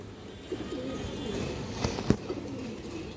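Soft, low cooing from an old-line pigeon with stone-coloured eyes and a short beak, a few quiet rolling coos close by over faint background hiss.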